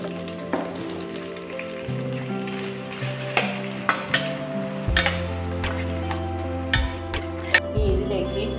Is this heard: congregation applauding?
no